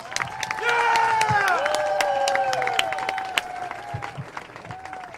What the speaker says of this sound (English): Let's hear a big round of applause for